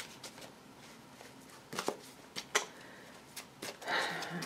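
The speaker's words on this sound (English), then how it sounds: "so I'm shuffling the cards" Soft riffling and flicking of cards, several quick shuffles with brief bursts of crisp rustling, fairly quiet and close.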